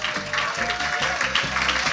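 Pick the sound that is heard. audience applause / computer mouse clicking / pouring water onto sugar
audience applause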